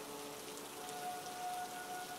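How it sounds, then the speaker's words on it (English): Steady rain falling in a wooded setting near a cottage, a soft, even hiss of drops with no talk, holding constant throughout. "the rain continued its soothing serenade"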